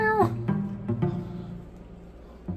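A small kitten gives a clear, close meow, followed by a few quieter short cries and faint rustling.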